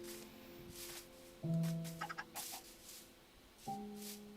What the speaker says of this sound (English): Wow, so many chickens.